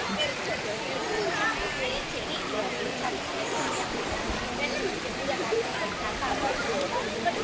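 A river rushes at Ezhattumugham near Athirappally, a steady broadband roar of flowing water that holds even throughout, with faint voices mixed into the background.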